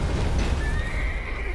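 A horse in the video game Elden Ring whinnies loudly and close, a short rising and falling neigh over a rumbling background.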